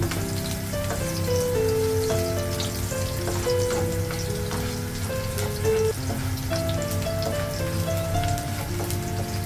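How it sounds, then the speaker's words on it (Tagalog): Garlic sautéing in a pan, a steady close sizzle and crackle of frying oil running without break, with soft music playing underneath. "Gisa natin ang bawang."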